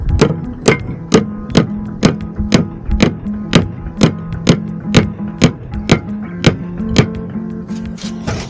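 A nail is hammered back into place during a solar water heater installation: about sixteen sharp, evenly spaced hammer blows ring out close and loud, roughly two per second, with no talking.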